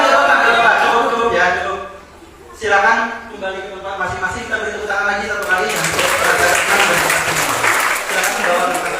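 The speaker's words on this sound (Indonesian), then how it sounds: "Kita beri tepuk tangan lagi satu kali." Workshop attendees at a public speaking session break into loud applause after a stretch of talking, with clapping filling the room for the last few seconds.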